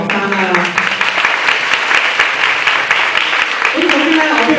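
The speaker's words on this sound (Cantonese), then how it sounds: "俾多啲掌聲我嘅學生啦。" An audience applauds students after a hip hop dance demonstration, sustained clapping filling the whole stretch while someone speaks over it.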